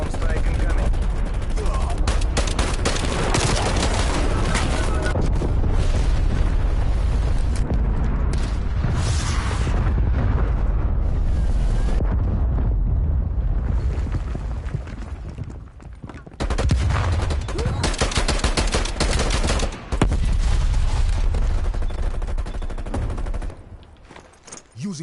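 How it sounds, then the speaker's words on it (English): Napalm strike explosions in a shooter video game, a dense, loud barrage of booms and rapid gunfire that rolls almost continuously, with a few brief lulls near the end. "Enemy napalm strike incoming."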